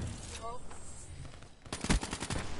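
A video game firefight with gunfire crackling through a short scene, a sharp louder shot bursting out near the end amid other in-game noise.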